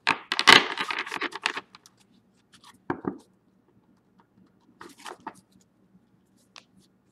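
Tarot cards being shuffled by hand: a burst of rapid riffling and flicking up front, then scattered soft card taps and slides with quiet gaps between.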